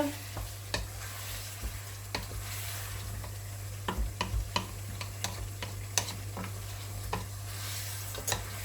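Seasoned meat is stirred in a pot, with a soft steady sizzle broken by irregular scraping clicks of a spoon against the pot.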